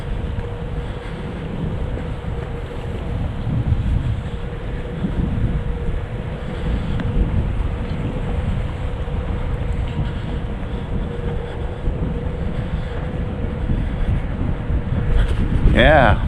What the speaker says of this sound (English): Yeah, this is really breezy now.